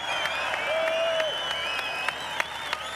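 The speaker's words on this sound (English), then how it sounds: "one last huge round of applause for the world champion" Crowd applauding at the Goodwood Festival of Speed for a Formula One world champion, a steady sustained wash of clapping from a large outdoor audience with a few sharper claps standing out.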